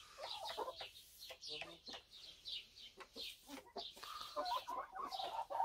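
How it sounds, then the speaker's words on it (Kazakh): A light Brahma rooster clucks in a quiet farmyard, giving a series of short, uneven clucks and throaty murmurs, fairly close but soft. "Мына светлый брама Атешіміз."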